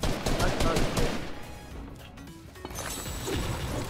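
Rapid bursts of gunfire from a competitive shooter video game, dense and continuous across the clip with a brief lull in the middle, mixed with game effects and a voice speaking over it.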